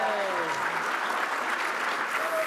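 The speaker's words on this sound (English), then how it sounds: "And clap if it's your first time at the Improvisation in Role-Playing panel." Convention panel audience at PAX East 2022 claps steadily and fairly loudly for a few seconds, a dense continuous patter of many hands with no talk over it.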